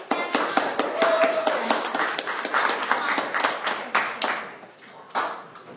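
Audience applause for an evacuation team, a scattered round of individual hand claps with distinct sharp strikes, moderately loud and fairly close, thinning out toward the end.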